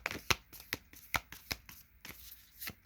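Oracle cards are handled and shuffled at close range: a series of sharp, crisp card taps and flicks come at an uneven rhythm, with soft rustling in between and no voices.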